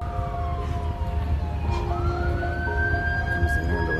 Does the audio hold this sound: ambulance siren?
yes